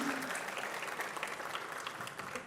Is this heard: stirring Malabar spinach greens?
no